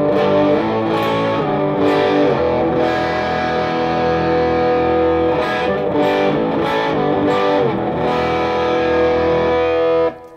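An electric guitar through a Marshall JVM410 amp on the crunch red channel plays a loud, driven riff of chugging and ringing chords for about ten seconds, close with no voices.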